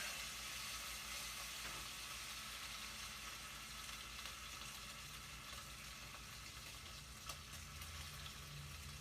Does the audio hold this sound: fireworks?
no